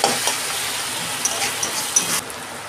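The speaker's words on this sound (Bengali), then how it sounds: "আমার পেঁয়াজটা ভাজা ভাজা হয়ে গেছে" Sliced onion with a pinch of salt sizzles steadily in a hot pan for chicken curry, with a dense continuous hiss and a few faint stirring clicks, close and fairly loud.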